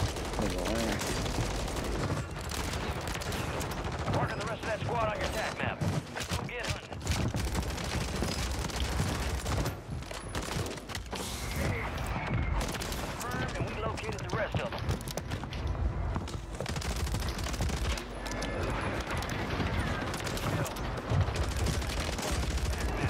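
Rapid bursts of FSS Hurricane SMG fire in Warzone, dense, loud overlapping gunfire with other battle noise and someone talking over much of it.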